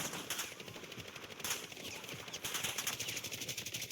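An MP40 submachine gun fires in Warzone in steady automatic bursts, a fast rattle of shots that rises and falls in loudness, with no talking.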